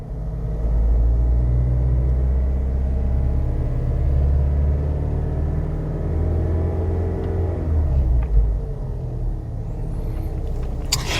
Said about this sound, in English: Going to give it some throttle.